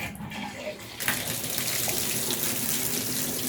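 A newly fitted bathroom mixer tap gushes water after a moment of quiet, starting with an abrupt burst and then running as a steady loud splash, with air in the pipes sputtering through the flow.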